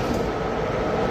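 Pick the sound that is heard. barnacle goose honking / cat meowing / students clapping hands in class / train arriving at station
train arriving at station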